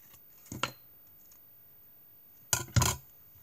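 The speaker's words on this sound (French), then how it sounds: "On vient couper le reste avec le ciseau." Scissors make two short, close snips about two seconds apart, trimming excess paper or card while a small lantern is assembled in a quiet room.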